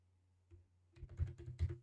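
A short burst of keystrokes on a computer keyboard, very quiet and close, over a low background hum.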